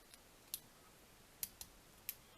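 Faint, sharp metallic clicks from a lock pick working pin 4 of a Big L challenge lock, four or five tiny ticks spaced unevenly over a quiet background.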